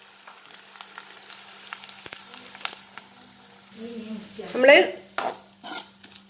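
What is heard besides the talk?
grated coconut being fried and stirred in a pan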